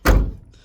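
The door of an old 1967 Camaro barn find shuts with a single loud, solid thunk close by, then a short decaying rumble afterward.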